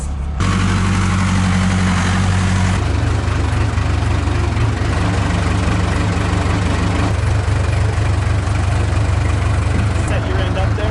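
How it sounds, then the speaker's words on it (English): A truck engine idles at a house-building site during steel beam placement, a loud, steady low rumble that runs throughout, close by and continuous. "It does sound like the truck."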